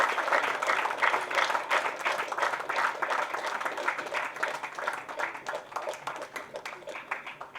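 A crowd at a social-welfare awards ceremony claps in a dense, lively burst, loudest early on, then thins gradually into scattered, separate claps toward the end.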